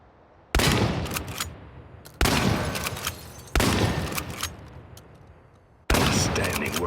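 Four loud, close shotgun blasts from the video game Chernobylite, each a sharp crack trailing into a long ringing decay, spaced about one to two seconds apart with no talking.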